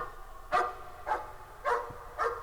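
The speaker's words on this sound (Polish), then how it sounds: "tych pieski szczekają." Dogs bark in the horror video game Layers of Fear, giving four evenly spaced, moderately loud barks over a low ambient hum.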